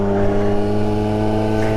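A 1983 Honda Motocompo scooter riding around town, its small engine giving a steady, loud, close drone with a constant pitch and no voices.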